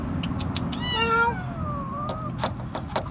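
A kitten meows repeatedly in a thin, high, drawn-out cry, with a longer wavering call in the middle, alongside sharp knocking taps.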